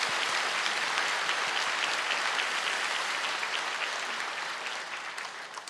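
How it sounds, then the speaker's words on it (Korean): A church congregation at a Sunday service applauds together, producing sustained, dense clapping that slowly tapers off over several seconds. "우리 박수로 한번 격려해 봅시다."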